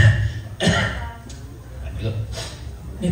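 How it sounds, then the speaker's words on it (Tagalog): A person coughs a few times, short harsh bursts close to the microphone, mixed with people talking. "may inuubo ko eh"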